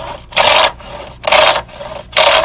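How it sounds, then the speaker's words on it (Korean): Three long, loud rasping saw strokes cut through horn being trimmed for a traditional Korean composite bow, each stroke a bright scraping burst separated by short pauses, close and alone. "뿔을 켜는 작업은 궁장의 오랜 경험이 대단히 중요하다."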